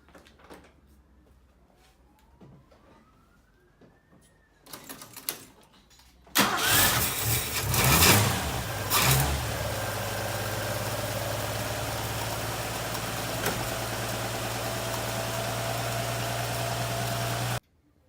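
Quiet shuffling gives way to a 1960 Ford XK engine with a leaking Holley carburetor cranking and catching, then settling into a steady, even idle that runs on before cutting off abruptly.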